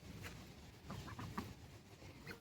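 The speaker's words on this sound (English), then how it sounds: "Aren't that just the cutest little ducks you ever seen?" Small ducks wander out of the brush in rural West Virginia, giving soft scattered quacks and chatters, faint and close.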